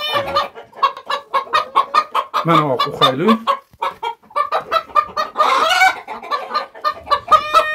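Broody hens sitting on eggs cluck in rapid, loud, closely spaced bursts, with a drawn-out squawk in the middle and a person talking briefly among them.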